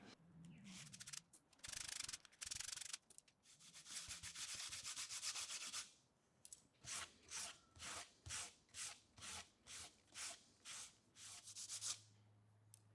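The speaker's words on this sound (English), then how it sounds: "It took a good couple of hours or so to sand all the corners." Wood sticks have their corners sanded by hand, first as longer rough rubbing passes and then as a steady run of about ten evenly spaced back-and-forth strokes, close and quiet with no talking.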